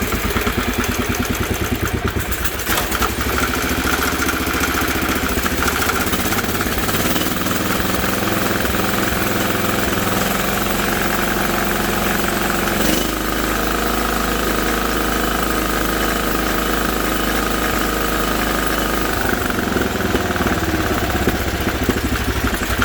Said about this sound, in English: So we're just going to give this a start real quick, see if I can demonstrate.